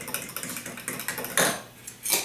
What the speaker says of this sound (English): I'm just going to grab a fork and mix that up